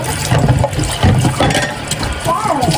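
Water runs steadily from a tap in a home kitchen in Japan, a continuous splashing gush with a faint voice underneath.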